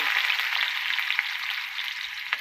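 Onion dropped into hot oil in a home kitchen sizzles with a bright, even hiss, held close and steady throughout with faint crackles.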